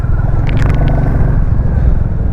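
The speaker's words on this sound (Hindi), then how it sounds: "और साउंड सुनो भाई आप इस गाड़ी की" Royal Enfield Classic 350 motorcycle ridden at night, its single-cylinder engine giving a loud, steady low thumping rumble close up, with a few brief higher scraping clicks early on.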